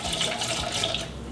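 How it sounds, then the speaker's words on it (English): Straight vinegar splashing into a bowl near a refrigerator's ice and water dispenser, a steady close wash of liquid pouring that runs continuously without pause. "So we're just gonna get a bowl and splash in some straight vinegar."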